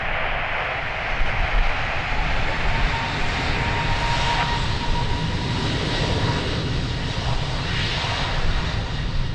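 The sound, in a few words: airplane taking off at Lisbon Airport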